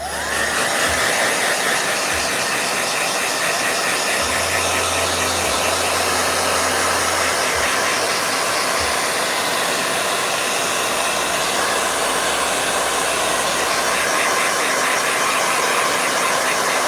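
A blow dryer runs steadily and loudly from start to finish, a constant airy roar over a faint low hum.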